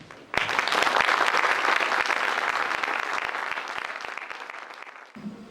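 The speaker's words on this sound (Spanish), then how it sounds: "Demos un caluroso aplauso a nuestro distinguido invitado." Warm applause from an audience for a distinguished guest at a botany postgraduate anniversary event, a sudden full burst of clapping that holds steady for about five seconds, then thins and cuts off.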